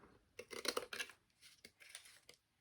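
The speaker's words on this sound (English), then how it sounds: "And cut that one out. Let's cut this one." Scissors snipping through a thin cardboard matchbox piece, with several quick crisp cuts in short bursts and a brief pause between them, close and fairly quiet.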